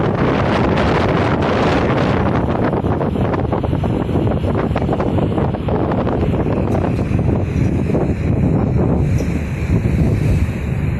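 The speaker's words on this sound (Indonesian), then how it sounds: "Cuaca angin kencang ya, angin kencang dan arus juga kencang banget ya." Strong wind gusts buffet the microphone at a ferry dock with a strong current running, a loud continuous roar with rough low rumble and splashing water throughout, no voices.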